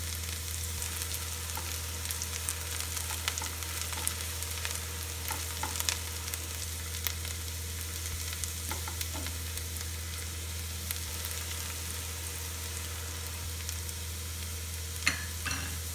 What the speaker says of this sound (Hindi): प्याज को अच्छे से सुनहरा होना दीजिए।